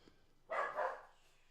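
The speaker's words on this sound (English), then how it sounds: "There's my dog barking." A pet dog named Max gives a short double bark in the background, quiet and somewhat distant in an otherwise hushed room.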